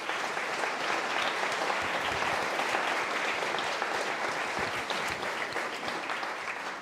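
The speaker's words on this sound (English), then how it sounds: "they truly deserve a massive round of applause for their efforts" An audience at a community health and wellbeing night gives a steady round of applause, dense clapping at moderate level holding throughout without voices.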